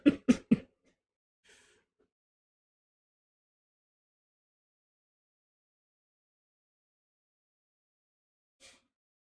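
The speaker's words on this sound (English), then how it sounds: "Small cough." A quick burst of three small coughs sounds close up at the start, followed by near silence with a couple of faint stray noises.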